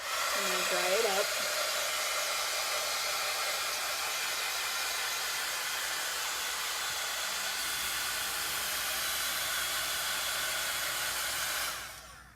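A hair dryer blows steadily on silk-screened fabric for about eleven seconds, a loud, even whooshing hiss that cuts off near the end; a brief voice sound is heard at the very start.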